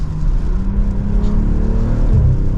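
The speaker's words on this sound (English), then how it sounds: "You have some pops in that exhaust" A 2024 Acura TLX Type S or BMW M340i sports sedan revs hard under acceleration, a steady loud exhaust drone rising in pitch with a few crackling pops near the end.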